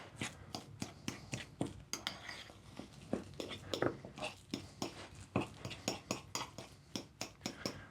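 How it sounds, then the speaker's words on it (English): Roasted garlic and herbs are folded into soda bread dough in a bowl, giving a quick, regular run of soft scraping and clinking strokes, fairly quiet and close, with no talk. "Mix, fold until that's kind of mixed throughout there."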